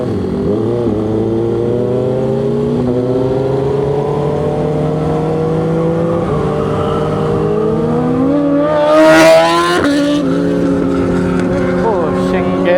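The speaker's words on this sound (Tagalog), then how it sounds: "May naririnig ako na big bike sa likod. Mukhang liter bike to kasi malaki yung tunog niya." A liter-class big bike passes from behind on a road in traffic, its deep engine rising in pitch over a steady nearby motorcycle drone and peaking in a loud, brief surge before fading.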